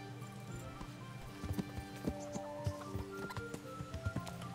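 Horse hooves clip-clop in the medieval game Kingdom Come: Deliverance, a quiet, irregular run of hoof taps set against faint ambient game sound.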